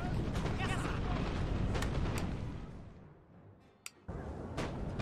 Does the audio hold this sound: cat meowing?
no